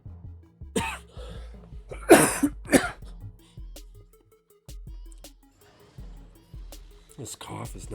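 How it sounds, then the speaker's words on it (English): Several short, harsh coughs from a nearby person come in bursts, loudest around the middle, with a few fainter throat noises before and after. "This cough is not going away."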